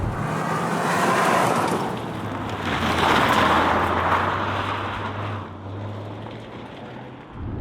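Toyota GR Yaris with a three-cylinder engine accelerating hard, a loud sustained engine drone rising and falling in pitch with road and wind roar, heard from inside the car.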